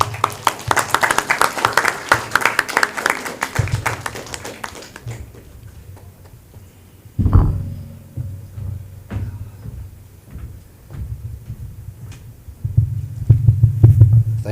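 A round of applause at a community college debate competition as a judge is welcomed: brisk crowd clapping for about five seconds, then dying away into a low, steady hum with a few scattered claps.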